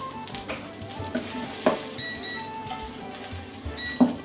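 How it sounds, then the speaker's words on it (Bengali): Fried chicken pieces go into a pan of chopped garlic, ginger and onion for Manchurian chicken, giving a steady low sizzle with a few sharp clinks and scrapes of a utensil. "এখন এর মধ্যে ঢেলে দিচ্ছি যে চিকেনটা ভেজে আমি পাশে রেখেছি"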